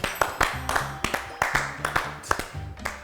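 A few people clap in a studio during a stock-market talk show, with crisp, close claps in a loose, uneven rhythm and voices talking between and over them.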